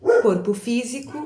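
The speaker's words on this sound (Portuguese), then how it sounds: "Me desculpe pelos cachorros, estão latindo por algum motivo." Someone speaks while dogs bark in the background, sharp yaps mixed under her voice.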